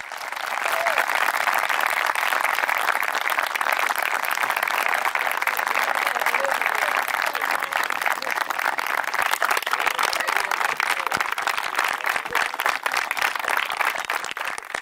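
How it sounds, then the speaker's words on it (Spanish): Continuous loud applause from a large crowd at a political rally presenting election candidates, dense, even clapping that holds steady for the whole stretch without pause. "fuerte ese aplauso"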